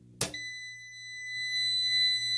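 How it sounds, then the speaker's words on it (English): A VEVOR 5KVA 48V MPPT hybrid solar inverter gives a single sharp, high electronic beep at the start, followed by a lingering steady tone and a low hum. "All that beep beep noise, I'm going to be taking off that from the settings here."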